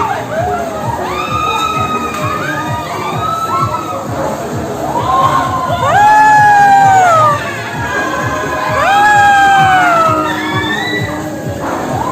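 Children on a school field trip screaming loudly at the Dufan amusement park, a sustained chorus of high shrieks rising in waves over crowd noise.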